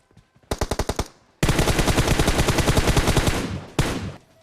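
Automatic gunfire in Battlegrounds Mobile India comes as a short burst of rapid shots and then a long, sustained stream of fire, closing with one more brief burst, all loud and close.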